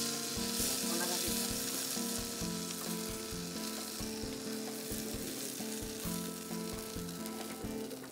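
River fish frying in a pan with soy sauce added for seasoning, a steady bright sizzle with crackling pops, close and continuous throughout.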